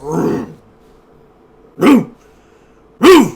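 A dog in the game Genshin Impact lets out three loud, close barks with long pauses between them, each a short gruff woof.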